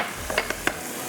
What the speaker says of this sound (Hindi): अब ये दही दही डालेंगे 2 टेबल स्पून।